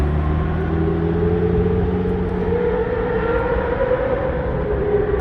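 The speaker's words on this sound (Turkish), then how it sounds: "Kırmızı araç uzatıp gidiyor" A red car accelerates away at Daikoku parking area in Japan, its engine a loud, continuous drone climbing steadily in pitch over several seconds with a rumbling low end.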